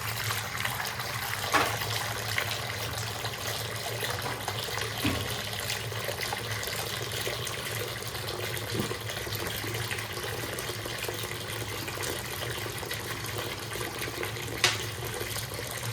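Tap water runs steadily into a bathroom lavatory sink being refilled after a pop-up clicker drain install, a continuous close splashing flow with a few small clunks and no talking.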